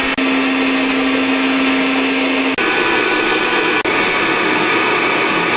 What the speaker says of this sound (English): all the air has been sucked out of this air mattress